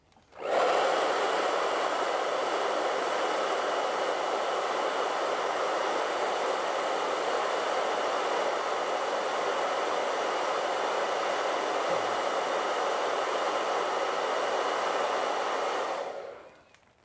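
A hair dryer blowing over a wet acrylic painting, a loud steady whooshing roar that switches on, holds constant for about fifteen seconds, then winds down.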